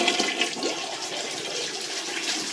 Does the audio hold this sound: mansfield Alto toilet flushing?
yes